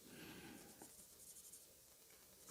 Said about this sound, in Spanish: Lo voy a hacer primero con lápiz para que se den cuenta qué pasa.